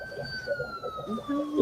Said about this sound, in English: They're calling the sirens right now, so we gotta get ready for it.